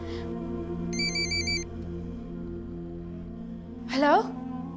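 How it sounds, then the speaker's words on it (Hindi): A phone ringing on the other end of a call in a drama, a short electronic ringback tone pulsing several times over steady background music, followed by a woman's brief exclamation. "थैंक गॉड बेल तो जा रही है।"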